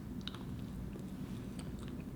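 Someone chewing a bite of a freshly baked homemade dish, soft close mouth sounds with a few sharper bites in a quiet room and no speech.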